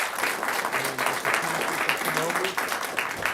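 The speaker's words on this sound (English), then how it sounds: "if we could have a round of applause for all of our hard-working volunteers" A round of applause for volunteers rises at a city council meeting, with a crowd clapping steadily and densely at mid-distance while voices murmur underneath.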